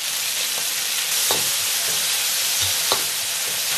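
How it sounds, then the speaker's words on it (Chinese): Stir-frying in a wok with chili sauce and oyster sauce, ginger, garlic and red and yellow peppers, a loud continuous sizzle with occasional spatula taps and scrapes. "炒出红油，然后加少许蚝油炒香"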